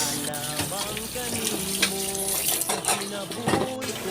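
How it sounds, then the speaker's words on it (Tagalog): Papaya being washed by hand under a running tap, water splashing into a sink with clinks of dishes and utensils, close and steady throughout. "Ating hugasan ang papaya. Ito po ang paghugas."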